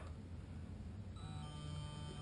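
An airsoft motion sensor receiver, tripped by motion, starts vibrating partway through, adding a steady low buzz and faint electronic tones over constant background hiss.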